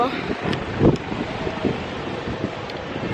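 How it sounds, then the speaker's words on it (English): Wind gusting outdoors in a tight parking lot in Jamaica, a steady broadband rush with a few stronger buffets against the microphone, heard alone without talk. "it's windy."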